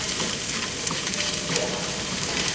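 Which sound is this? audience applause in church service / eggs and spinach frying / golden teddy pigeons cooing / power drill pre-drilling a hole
eggs and spinach frying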